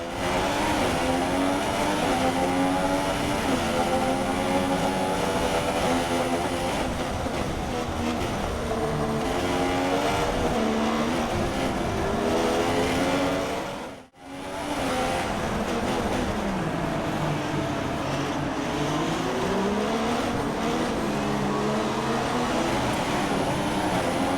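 Formula 1 race car engines roar in the F1 2016 video game at the Monaco street circuit, a loud, continuous high-revving whine with shifting pitch as several cars run close together, broken by one brief dropout midway.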